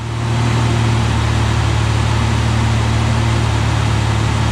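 A Ford Ranger's 4.0L V6 engine runs steadily at idle after a new idler pulley and drive belt were fitted, giving a loud, even hum with a constant low drone and no voices.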